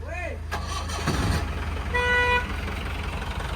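A diesel Willys jeep engine cranks and catches, a close rumbling start with a car horn tooting briefly, while people talk loudly over the noise.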